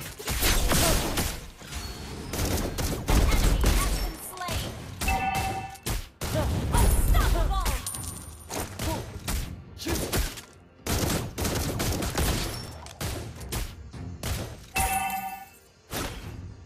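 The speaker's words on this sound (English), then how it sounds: "Behold, the crescendo of bullets." Video game gunfire in dense, loud bursts, rapid automatic rattles and volleys cut by brief gaps, with metallic dings and thuds mixed in, no talk.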